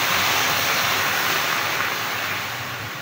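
Water hits a hot tawa griddle, a loud, dense hiss that holds steady for a few seconds, then eases slightly toward the end.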